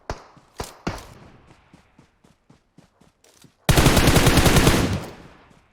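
Gunfire in a PUBG Mobile firefight on the Sanhok map: a few loud single shots open, followed by a string of fainter distant pops, then a dense, loud burst of rapid automatic fire lasting over a second.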